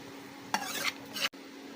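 Whole spices hit browned onions frying in oil in a pan, giving two short bursts of sizzling and stirring over a low steady hiss, then a brief cutoff.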